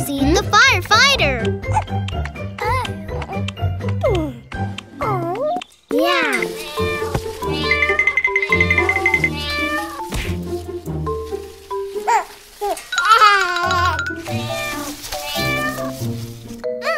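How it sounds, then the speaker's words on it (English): A stuck kitten in a children's cartoon meows repeatedly in loud, wavering cries, some drawn out into wails, over background music and cartoon voices. "how should they rescue the stuck kitten?"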